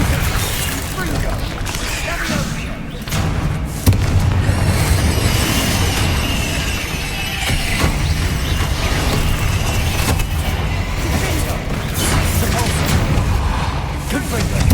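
Repeated fiery blasts from the Confringo spell in Hogwarts Legacy, heavy booming explosions and crackling impacts layered over continuous combat noise, with a voice talking throughout.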